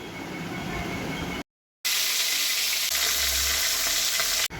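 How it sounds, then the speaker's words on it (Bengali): Hilsa fish head frying in hot oil in a pan, a steady loud sizzle close by, broken by a brief silent cut before the hissing resumes just as strongly. "মাছের মাথাটা যেটা রয়েছে সেটা আমি ভেজে নেব এক এক করে"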